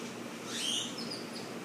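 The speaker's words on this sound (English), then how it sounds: "Not that bird that's crying outside my window." A bird calling outside a window, heard as a faint, brief high chirp or two against steady indoor background noise.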